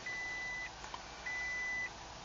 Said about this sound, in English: The beeping now is because we haven't put on our seat belts.